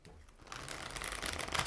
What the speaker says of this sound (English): I am going to shuffle one more time.